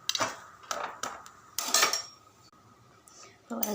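A pan is set onto the stove while cooking a Tamil avarakkai paruppu usili, giving several sharp metallic clanks and knocks spaced irregularly, fairly quiet with gaps of near silence between them.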